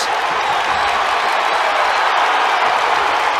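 A college wrestling dual crowd roars after a reversal takes the lead, a loud continuous mix of cheering and clapping that holds steady throughout without any talk over it.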